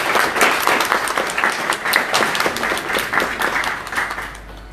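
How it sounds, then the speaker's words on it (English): Steady applause from an audience welcoming a speaker at a talk, a dense, even clapping that holds for several seconds and then begins to fade. "give him a warm welcome, round of applause"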